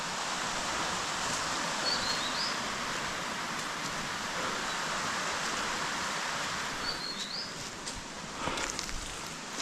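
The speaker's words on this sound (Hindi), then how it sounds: "और झरने की आवाज़ आ गई है" A steady, rushing roar of a waterfall on a forest trek in Uttarakhand, India, with a couple of faint bird chirps in the distance.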